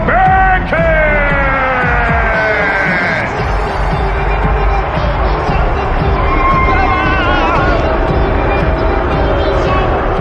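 A darts crowd reacts to a player's walk-on as a song plays, a loud, dense roar of voices and jeers held throughout, with a sung melody running on top.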